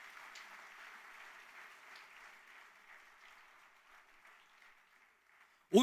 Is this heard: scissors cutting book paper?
no